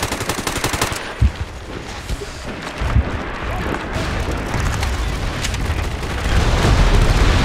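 Incoming artillery in a Battlefield-style war game: heavy rumbling explosions and booms roll together with bursts of machine-gun fire, a loud and continuous barrage that swells toward the end.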